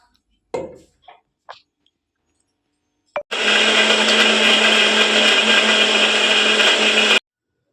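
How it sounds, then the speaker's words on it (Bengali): An electric mixer blends banana, raisins, sattu and milk into a protein shake, a few soft clunks before it starts, then a loud, steady high whirring for about four seconds that stops abruptly. "আর এগুলোতে ভালো করে মিক্সার করে খাবো"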